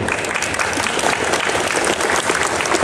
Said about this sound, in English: You just started a round of applause for one of your fans.